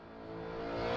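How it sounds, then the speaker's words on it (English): A BMW circles the Nordschleife as a ring taxi, its steady engine drone building gradually into a louder, rising note over one second, close and continuous with no talking. "So you just get to see how this car handles."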